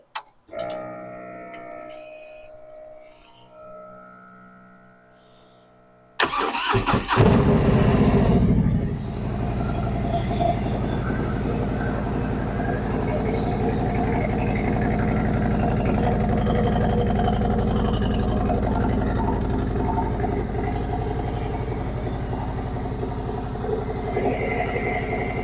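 A Harley-Davidson Road Glide with a 122ci Stage 3 engine cold-starts after a few quiet ticking clicks, firing abruptly into a loud, deep, lumpy idle that settles and holds steadily close by.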